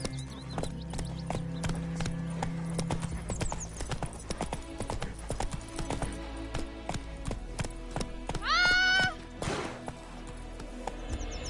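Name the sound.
horse Roach galloping in The Witcher 3 video game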